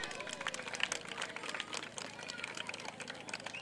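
Audience at a school ceremony applauding, a dense, steady patter of many hands clapping at moderate distance, with faint voices mixed underneath throughout.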